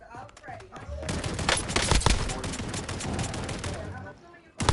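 Gunfire in the video game Call of Duty Warzone, with dense bursts of rapid automatic shots and sharp reports clustering loudly through the stretch, then briefly dropping before a final loud burst.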